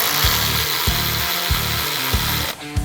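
A Ryobi power tool tightens a nut on a Duramax truck in rhythmic bursts, about five sharp impact hits spaced roughly every half second over a continuous whirring motor, loud and close, with no talk.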